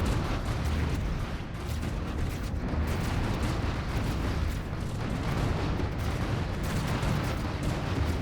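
Spaceship fleet weapons fire in Stellaris, a dense, continuous roar of blasts and rumbling detonations rolling on without a break.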